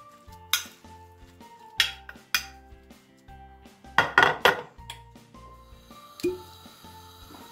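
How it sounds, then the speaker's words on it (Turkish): A spoon stirs zucchini fritter batter in a bowl, with sharp metallic clinks against the sides at irregular intervals between quiet, soft scraping, close and alone. "Tüm malzemeyi bir güzel karıştırıyoruz."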